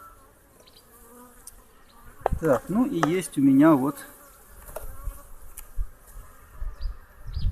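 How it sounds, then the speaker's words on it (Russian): Honey bees buzz around a hive of small colonies with brood frames, a steady close drone swelling loudly for a couple of seconds with individual bees flying past, while someone speaks briefly. "Вот мои пчелки."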